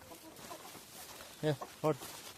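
Guinea fowl on a small farm give two short, loud clucking calls close by, following a stretch of faint background murmur.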